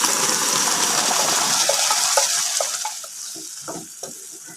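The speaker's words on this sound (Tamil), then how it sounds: "இந்த மாதிரி நல்லா கிண்டி கலந்து கொடுத்துக்கிட்டே இருக்கணும்" Rava, coconut and boiled moong dal are stirred together in hot ghee for ukkarai sweet, giving a close, continuous sizzle with scraping spoon strokes that fade slightly toward the end.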